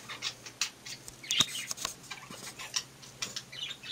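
Pet birds in an indoor craft room give scattered sharp chirps and faint tick-like calls, quiet and intermittent with no talking.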